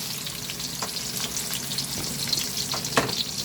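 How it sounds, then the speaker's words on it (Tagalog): Garlic and onion sauté in a hot pan for pancit, a steady close sizzle with occasional utensil clinks from stirring, no talking. "Sunod naman natin pag-isa ang bawang tsaka sibuyas"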